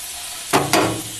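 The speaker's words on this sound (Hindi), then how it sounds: "मसाला भून गए हैं।" Cumin and black pepper dry-roasting in a pan give two quick, close bursts of stirring sizzle against a soft background hiss.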